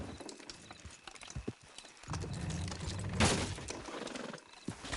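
Horse hooves clop in an uneven rhythm in the video game Red Dead Redemption 2, joined by rumbling wheels and a brief whinny, fairly faint and distant.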